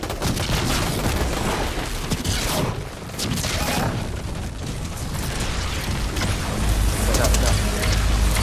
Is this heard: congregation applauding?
no